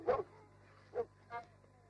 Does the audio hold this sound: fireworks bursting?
no